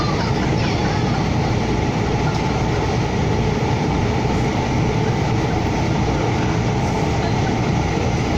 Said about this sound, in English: There's the other SD160 LRT. 3 cars. Metro line.